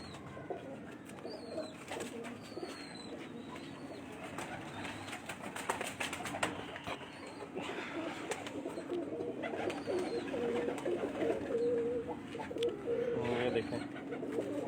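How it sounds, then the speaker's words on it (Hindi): Flying pigeons kept by breeders cooing softly and intermittently in a noisy outdoor setting, with chirps and a continuous hum of background commotion. "ये उड़ने वाला कबूतर है"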